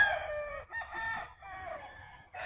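A gamefowl rooster on a game farm crows close by: a loud, drawn-out call broken into several strained segments, with another crow starting at the end.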